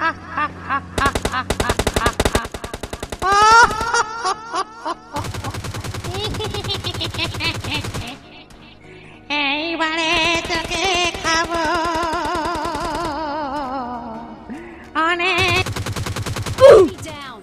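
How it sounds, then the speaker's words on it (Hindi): Rapid bursts of gunfire in PUBG Lite crackle in quick rhythmic volleys, broken by pauses, with voices talking over some stretches. "कैसे गोली चला रहा है बे?"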